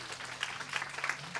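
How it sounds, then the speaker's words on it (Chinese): An audience at a live singing performance gives a short, faint burst of scattered applause lasting just over a second. "给自己掌声鼓励一下"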